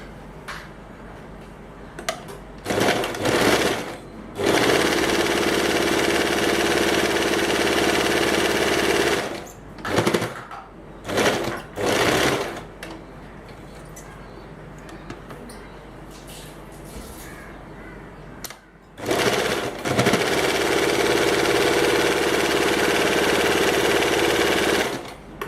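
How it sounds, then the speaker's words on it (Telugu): A sewing machine runs a double stitch along a salwar pant, buzzing in several sustained bursts of a few seconds each, separated by short pauses, loud and close with no talking. "ఇప్పుడు ఇక్కడ ఫుల్గా పైనుంచి కిందకి అటాచ్ చేసి డబుల్ స్టిచ్ వేసుకోవాలి."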